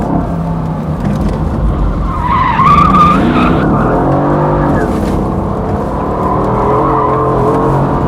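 A Mercedes AMG GT S V8 with traction control off slides, its tires squealing loudly over a steady, close engine roar that rises and falls with throttle.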